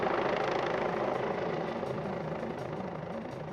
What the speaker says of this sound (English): X-Ray Alpha 99, the police helicopter, is homeward bound.